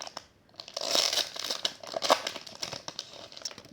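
A Magic: The Gathering Magic Origins booster pack being torn open, with close, loud foil crinkling and ripping that builds into a sustained, jittery crackle of plastic wrapper for a few seconds.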